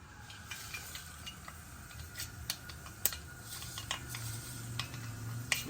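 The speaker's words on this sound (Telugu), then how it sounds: "ఆవాలు వేస్తున్నా" Faint, steady hiss of hot coconut oil with scattered sharp pops and crackles as mustard seeds splutter in the pan.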